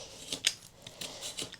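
Scissors snipping a fringe into a cardboard comb used for gel printing, a few quick crisp cuts close by, quiet and spaced out over a short stretch.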